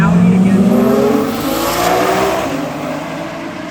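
Loud, close engine roar from a 2017 Audi at a drag race, a sustained high-revving drone that slowly eases off over a few seconds, with a crowd and track ambience behind it.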